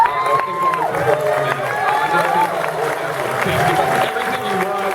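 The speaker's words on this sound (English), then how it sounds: "keep your applause going with creators of South Park" A convention audience at the San Diego Comic-Con 2013 South Park panel keeps up steady applause and cheering while an announcer talks over the crowd.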